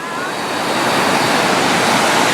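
A waterfall at a tropical nature spot in Langkawi pours continuously, a loud, steady broadband rush of falling and flowing water close by, with no voices over it.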